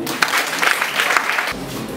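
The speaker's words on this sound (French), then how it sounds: "sous vos applaudissements" Audience applause at a school debate final in Keur Massar, welcoming the school director onto the stage; dense clapping across the room for about a second and a half, then cutting off abruptly into a quieter hum.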